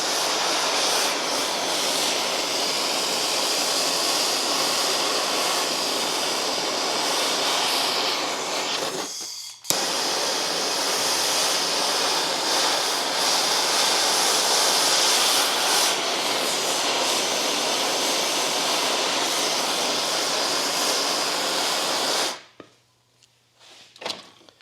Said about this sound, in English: we're just going to take a propane torch and we're going to burn all that carbon off of there.